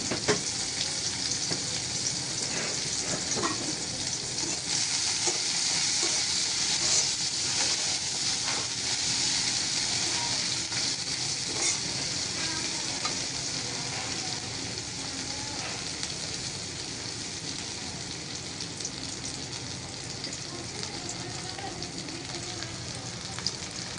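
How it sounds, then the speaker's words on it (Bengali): Chopped onion frying in oil in a wok (karahi) for a village-style fish curry, a steady broadband sizzle lasting throughout with faint occasional stirring scrapes, close and even, no voices. "তো পেঁয়াজটা এখন আমি একটু ভেজে নিব"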